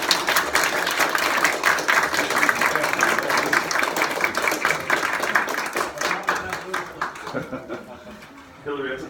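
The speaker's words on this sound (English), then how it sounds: "So if everybody can give a round of applause for Dr." A lecture audience claps for a speaker after a talk on African American history before the Civil War; sustained, crowded applause that thins and fades before a voice comes in at the close.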